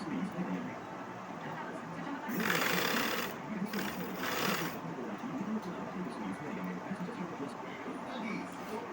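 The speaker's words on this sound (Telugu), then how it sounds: "అందుకు ఇలాగా లాగి కుట్టు వేసేస్తున్నాను" A sewing machine stitches blouse fabric around a neck design, running in a loud whirring burst for about two seconds midway, with a speaking voice continuing over the rest.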